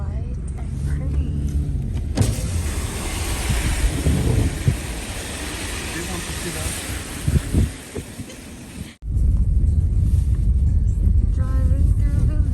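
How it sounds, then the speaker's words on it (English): A car drives through snowy Vilnius in winter, its steady engine and road rumble filling the cabin, with a mechanical whir, a brief dropout and a clunk near the end, and voices talking inside. "Driving through Vilnius."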